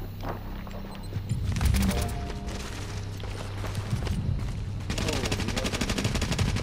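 Rapid bursts of gunfire crackle in Tom Clancy's The Division, with a pause between two volleys of automatic shots.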